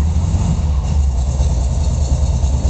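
Steady low idle of a Porsche 356 Speedster replica engine running, a continuous deep rumble without pauses or talk.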